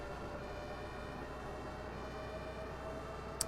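Ambulance siren in the bus-driving game OMSI 2 on a Bowdenham route, a steady, faint wail heard through the cab over a constant engine drone, with no voices.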